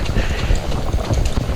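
Horse hooves clip-clop in a steady walking rhythm on the footing of an indoor riding barn, close and continuous, with a voice talking over them.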